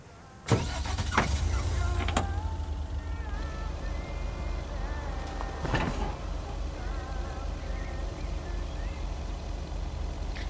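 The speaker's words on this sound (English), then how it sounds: "Okay, so back in the truck, and we've got more mail to deliver." A mail delivery truck drives in a video game, its engine a steady low rumble close up, with a few sharp clunks and mechanical whirs over the continuous drone.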